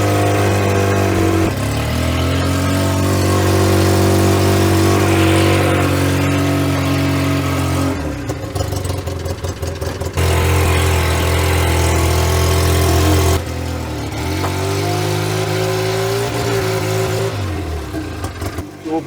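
A Polaris 6x6 off-road vehicle's engine runs and drives around a field, a loud, close, steady mid-pitched drone that rises and falls with throttle changes, with brief dips and re-revs.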